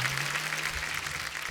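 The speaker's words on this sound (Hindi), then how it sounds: "ओ जोरदार तालियां विकी कौशल जी के लिए" Television comedy show studio audience applauds in a steady, dense wash of clapping that carries on evenly without pause, with a faint low hum underneath.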